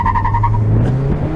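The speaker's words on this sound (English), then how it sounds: "always that second gear chirp" A 2022 Mazda MX-5 accelerating hard through a 0-60 run, with a short tire chirp on the shift into second gear over steady, loud engine drone.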